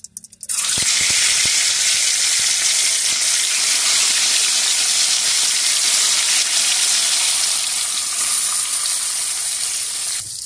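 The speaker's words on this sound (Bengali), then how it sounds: "তেল গরম হয়ে গিয়েছে, এখন আমি মাছগুলো ভেজে নেব।" Japanese puti fish sizzle loudly in hot oil in a home kitchen, a sudden burst of steady, close frying hiss that continues throughout with no talking.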